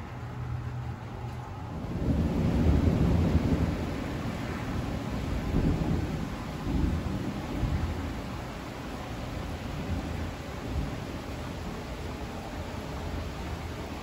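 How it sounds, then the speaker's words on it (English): Steady rain noise with low rumbles like thunder, fairly loud from the start and swelling after a couple of seconds, then holding as a broad continuous wash with no talking. "There comes the rain, guys."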